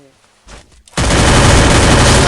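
Rapid automatic gunfire in the Free Fire battle game erupts suddenly after a brief quiet with faint speech, then runs as a loud, dense, continuous burst of shots until the end.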